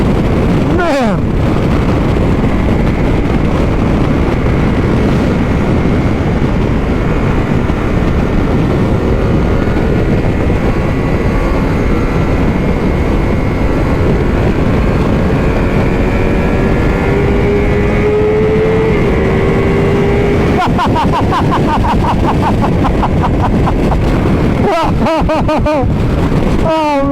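A 2022 Ducati Multistrada V4 Pikes Peak motorcycle roaring at speed, its loud V4 engine droning steadily under heavy wind rush, with gear changes and revs rising and falling near the end.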